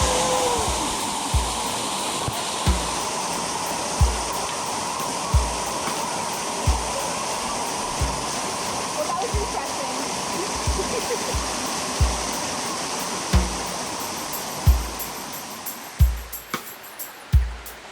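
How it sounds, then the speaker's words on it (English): Waterfall in a Puerto Rico rainforest roaring steadily and close, a dense unbroken wash of falling water with regular low thumps and splashes throughout. "It's not easy going underneath the waterfalls."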